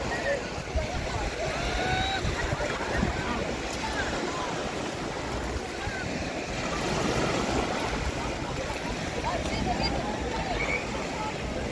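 Sea waves wash continuously onto the shore at Portsmouth, England, a broad rushing surf with some wind buffeting, while people talk and call out nearby.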